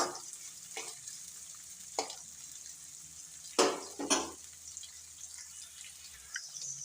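Onions frying gently on low heat for potato palya: a faint, soft sizzle with a few sharper scraping stirs of the pan at irregular intervals, close by and quiet.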